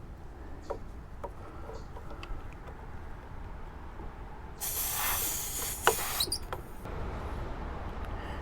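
Air hissing into a plugged car tire during a roadside tire repair, a loud broadband rush lasting about two seconds after quiet background, with a few brief clicks and shorter hisses following.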